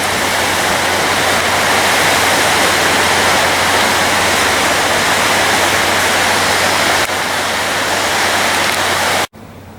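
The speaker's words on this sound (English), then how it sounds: "This is the other part of the river that goes down this way, and this empties out into the Hudson." Turbulent river water rushes steadily and loudly near the Hudson River after storm damage, a dense continuous roar with no voices, cutting off abruptly just before the end.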